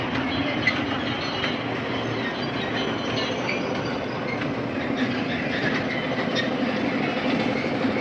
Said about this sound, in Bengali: ওই একটা ট্রেন চলছে